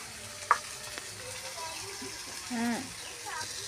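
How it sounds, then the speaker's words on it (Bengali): Chow mein noodles stir-frying in a pan with potato and onion, a soft sizzle and stirring heard under faint background voices in the room. "ভাজা হয়ে গেলে চাউমিনটা দিয়ে দেবো।"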